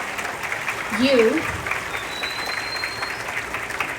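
A graduation audience applauding for a school's class of 2025, broad steady clapping from a crowd filling the room, with a voice briefly heard over the clapping near the start.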